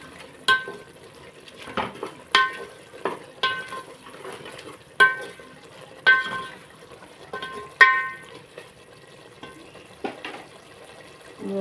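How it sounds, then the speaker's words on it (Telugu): Prawn biryani being stirred in a pot after salt goes in: a series of sharp, close spoon-against-metal scrapes and clinks every second or so, with a soft sizzle underneath and no voices. "ఇప్పుడు బాగా కలిపేస్తున్నాను"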